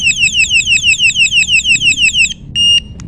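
Electric bike horn with an anti-theft alarm sounding, a loud close rapid series of repeating electronic warbling chirps for over two seconds, then a brief pause and a short steady beep tone.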